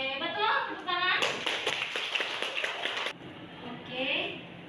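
Several people clap together in a short burst of classroom applause, mixed with children's voices and chatter before and after.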